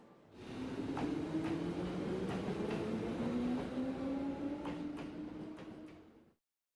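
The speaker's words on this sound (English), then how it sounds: "That sounds like a very smooth-moving train" A smooth-running moving train in the Trails of Cold Steel video game, heard alone as a steady low rumble with faint rhythmic clicks of the wheels, fading in and then cutting off abruptly.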